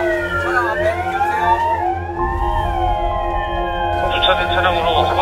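A fire engine siren wails loudly and close, with overlapping rising and falling tones over a deep engine rumble, switching to a faster pattern near the end.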